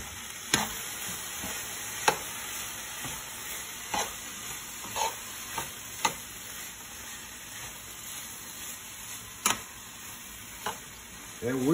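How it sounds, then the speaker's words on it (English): Leftover pasta being stirred into a hot pan with veggies, with a steady soft sizzle and a run of sharp scraping clicks from a utensil against the pan, fairly quiet and without talk. "Scrape that pan. Mix that pasta right in."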